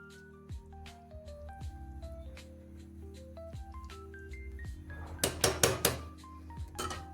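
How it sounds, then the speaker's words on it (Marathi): Metal lid clanks and clinks onto a cooking pot of slow-simmering vegetable curry over a low gas flame, a few sharp close rattles amid soft background music. "गॅस हा बारीक करते आणि टोपण झाकून घेते"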